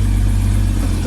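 The engine of a 1972 Chevy Custom 10 pickup truck rumbles close and loud while maneuvering through a tight turn, a steady low drone with a slight rise at the end.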